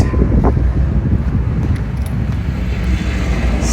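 Wind blows across an outdoor building site for a beach house in Barbados, a steady low rumble of gusts buffeting the microphone, with no talking.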